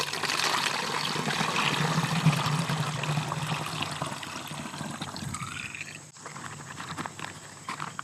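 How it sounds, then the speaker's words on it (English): Cooled wood bleach solution is poured into a chemical spray bottle, making a close, steady trickle and splash of liquid for several seconds before a brief break, then softer dribbling. "Now that the solution is cooled down, I'm going to pour it into a spray bottle."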